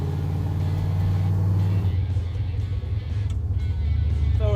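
A C10 pickup with an LS engine swap and a Tremec TKX manual transmission drives along, its engine giving a steady deep rumble that shifts in pitch as it changes load, heard from close by.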